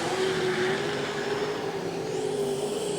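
A Modified Production race car engine drones loud and steady at high pitch at Gympie Speedway, Queensland, its tone shifting slightly as it revs, with a roaring crowd-like wash behind it.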